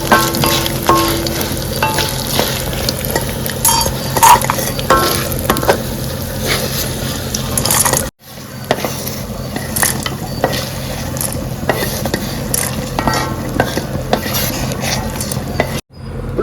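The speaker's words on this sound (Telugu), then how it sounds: "ఇప్పుడు దోసకాయలు దోరగా వేయించుకున్నామండి." Cucumber pieces frying in a pan make a loud, close, continuous sizzle, broken by repeated metallic scrapes and clinks of stirring, with two brief gaps where the sound cuts out.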